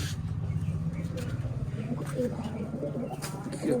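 Pet pigeons in a loft coo in low, repeated murmuring calls, steady and close, with soft rustling in the background.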